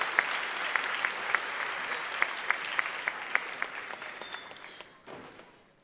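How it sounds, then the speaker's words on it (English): A crowd at a May 2019 commencement ceremony claps in a steady wash of applause with a few sharp individual claps standing out near the microphone, fading away in the final second. "Everyone but the graduates, please give them a round of applause."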